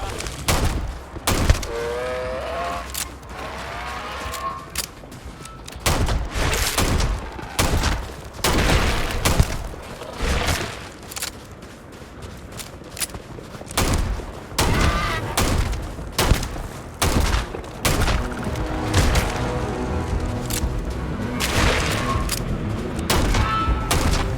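Rifle gunfire from the video game Starfield, with repeated sharp shots in quick bursts and booming impacts throughout, loud and close, joined by other game effects.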